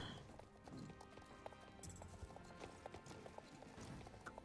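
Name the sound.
horse galloping hooves in the video game Star Stable Online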